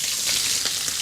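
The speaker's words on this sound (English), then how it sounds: "with a little olive oil and our lean and our fat bacon, we get the pan up to frying speed" Lean and fat bacon frying in a little olive oil in a hot pan gives a close, steady sizzle with soft crackles over about a second, with no talk.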